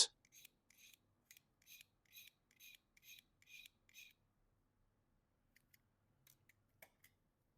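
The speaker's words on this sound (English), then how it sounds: "Importantly, our knife must be sharp. Scrape like this." A sharp knife scrapes a bamboo stick used for traditional Thai tattooing, giving a run of quick rasping strokes heard close and quietly, then a few sparser scrapes after a pause.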